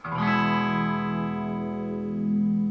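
A sustained bass note through a bass amp drones for a few seconds, its tone slowly shifting as the amp's midrange control sweeps, giving a gentle wah-like movement.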